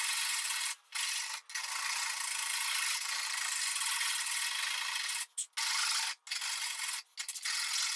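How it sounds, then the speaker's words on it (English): Hand rasps shaping and rounding a wooden banjo neck: steady, close, rough rasping strokes that run long and continuous, broken by a few brief pauses, with no talking. "I just have to take these rasps and round it all out and shape it."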